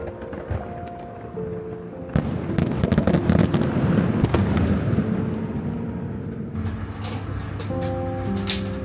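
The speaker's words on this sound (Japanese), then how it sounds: "去りゆく夏に似合うのはやっぱり花火" Fireworks bursting over a summer night near Dieppe in Normandy, a run of booms and crackling pops with sharp cracks, loud and continuous over a soft background of music tones, with no talking.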